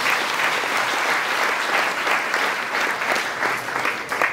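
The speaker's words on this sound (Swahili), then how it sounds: "So hebu wapigieni makofi mazuri." A church congregation applauds at an ordination and consecration service for a minister, a full steady round of hand clapping from many people, loud and close, swelling slightly near the end.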